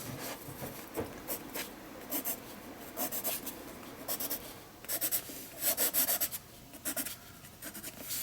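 A white charcoal pencil scratches and rubs across an art journal page in short, repeated strokes with a dry, gritty texture, close up and alone.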